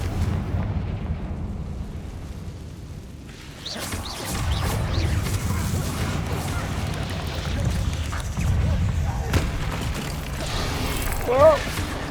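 A Confringo blasting spell going off in the game Hogwarts Legacy: a deep, rumbling explosion bursts in after a quiet stretch and rolls on with booming low crashes and debris, loud and sustained, with a brief brighter crack near the end.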